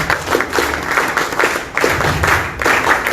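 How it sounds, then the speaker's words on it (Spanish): Audience applause welcoming a speaker at a forum on citizen security proposals, a moderate round of clapping that pulses in uneven waves without speech. "Fuertes palmas para recibirlo, por favor"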